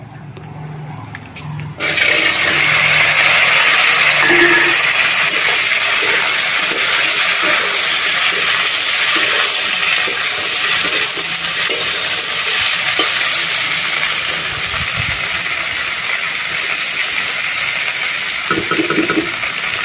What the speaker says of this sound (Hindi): और देखिए इसमें अब भिंडी डालेंगे।